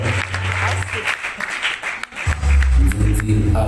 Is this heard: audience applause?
yes